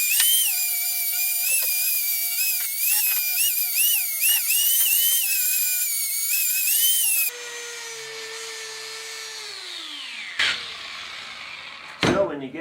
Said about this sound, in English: Next step I do is to just take a 4-inch buffer,